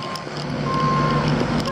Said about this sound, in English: We're backing up the dump trucks.